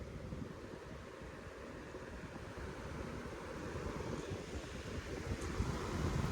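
A Lasko 3733 box fan runs on its high setting, a steady, broad rushing hum of moving air that swells slightly toward the end, heard alone without talk.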